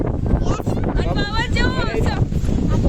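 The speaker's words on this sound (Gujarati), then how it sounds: "પવન કેવો આવો" Strong wind buffets the microphone with a constant heavy rumble while people talk excitedly over it.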